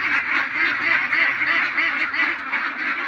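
Ducks quacking steadily at a duck farm, a dense continuous chorus of many birds close by with no pauses.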